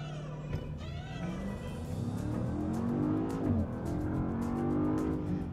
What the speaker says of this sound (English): Today I'm driving the 2024 Land Rover Defender V8, but this is a different V8